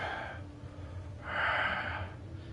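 Loud, heavy breathing close to the microphone, with a long noisy inhale or exhale swelling in the middle and quieter breaths around it, no talking.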